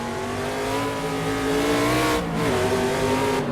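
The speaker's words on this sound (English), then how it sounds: "Straighten the car out and gently get back on the power for the short run down towards Turn 4." A race car engine pulls hard on a track, its revving tone climbing steadily through the gears with brief gaps at each upshift, close and loud and with no voices.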